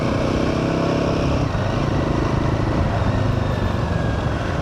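A motorcycle rides the cold, winding Malshej Ghat road, its engine a loud, unbroken drone blended with heavy wind roar, close and constant with no talk.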